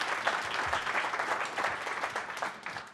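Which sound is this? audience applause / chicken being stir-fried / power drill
audience applause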